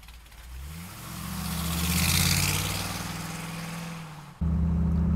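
A 1950 Chevrolet pickup truck's engine running close by, rising from a steady idle into a swelling rev that eases back down, then cutting abruptly to a louder, lower idle rumble.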